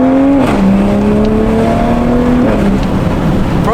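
A 2021 Toyota Supra A91 fitted with a downpipe exhaust revs hard, a loud, close engine drone that holds, dips in pitch, then drops again near the end, with no talking over it.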